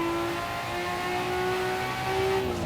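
A Nissan Skyline GTR R34 in Assetto Corsa on the Nurburgring holds a steady, loud, close engine note whose pitch climbs gradually and then dips briefly, with no talking.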